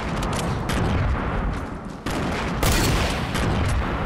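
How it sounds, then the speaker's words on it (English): Dense, rapid gunfire crackles nonstop during a Fortnite match, loud and close, with bursts intensifying midway. "Where am I getting shot from?"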